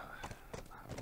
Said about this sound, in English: You can ride the horse